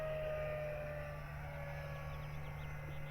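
An FMS Futura 64mm electric ducted-fan RC jet cruises at half throttle, a faint, steady whine with a sustained tonal hum and airy rush from a distance, no voices.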